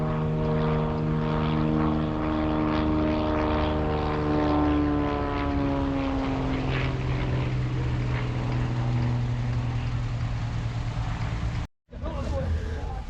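A propeller aeroplane flies overhead at an outdoor car show in Scotland, its loud, steady engine drone sliding slowly downward in pitch as it passes, with a brief dropout near the end.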